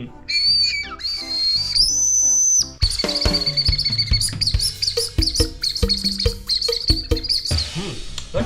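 Shrill, bird-like whistle tones from a blown whistle candy trill and warble, first sustained, then broken into quick chirpy bursts over a busy clatter of background sounds.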